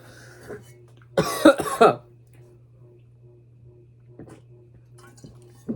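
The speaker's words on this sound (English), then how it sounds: "Sorry guys, whenever I talk for a long time, I cough" A single short burst of coughing from one person close to the mic, brief and sharp against a quiet room with a low steady hum and faint sounds afterward.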